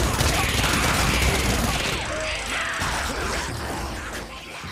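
The Growler gun fires in Days Gone, a dense rapid fusillade of loud shots that fades toward the end into mechanical rattles and a voice speaking.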